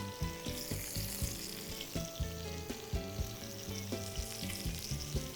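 Guidry's catfish fillets fry in a pan with a soft, steady sizzle, broken by repeated low knocks and clatters of cookware, quiet overall with no talking.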